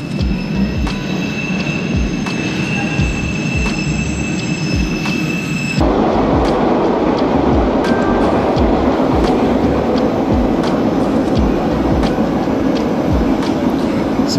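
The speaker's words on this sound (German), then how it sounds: "Red Line, die fährt direkt bis in die Stadt." A Boston Red Line subway train riding along, a loud continuous rumble with rhythmic wheel clatter over rail joints and a faint squeal, heard from inside the car.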